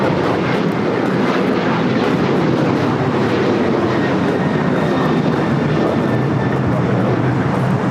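A United Airlines Boeing 737-900ER takes off from LAX bound for Houston, its jet engines producing a loud, sustained roar with heavy low-end rumble and a faint high whine, continuous and unbroken with no voices.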